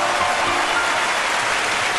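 Steady, dense audience applause fills the hall at a televised Chinese opera program, continuous and even from start to finish without any voices.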